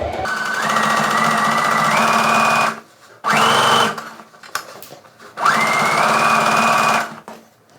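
A domestic sewing machine stitches a cork tote bag, running loud and steady in long bursts of fast whirring with short pauses between them while the presser foot is lifted and the work is turned.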